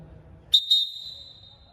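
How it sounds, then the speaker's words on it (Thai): A referee's whistle gives one short, sharp blast to halt a futsal match, followed by a second shrill blast that holds a little longer, both loud and clear over a quiet room. "สัญญาณที่3นะครับสัญญาณหนักสั้นๆใช้ ในการหยุดเกมชั่วขณะหรือเรียกผู้เล่นเข้ามาพบ"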